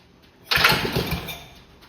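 A 1955 Wisconsin AKN engine, run for the first time in 30 years, sputters into life with a sudden burst of rapid, uneven firing that fades after about a second, close and fairly loud.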